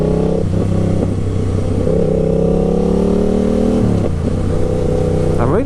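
A 2020 Yamaha MT-07 motorcycle with a full GR Moto exhaust system drones loud and close as it rides, with engine pitch shifting and dropping on deceleration and a brief rising rev at the end.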